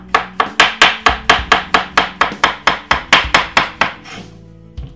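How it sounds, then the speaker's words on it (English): A knife slices through cucumber on a cutting board in a quick, even series of about fifteen crisp chops, close and loud, before a brief pause and a final soft knock. "Let's cut some more cucumber."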